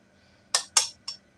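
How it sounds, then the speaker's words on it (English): Chicken McNuggets being stir fried in a pan, heard as three quick metallic clinks and scrapes of a utensil against the pan, close by, with quiet between them and no talk. "I'm actually stir frying my chicken McNugget."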